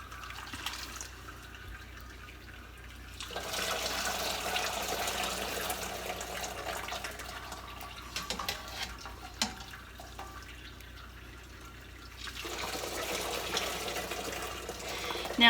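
Vegetable stock pours through a cheesecloth-lined strainer in a couple of soft, trickling bursts of running liquid with quieter pauses between, faint and close, with no voices.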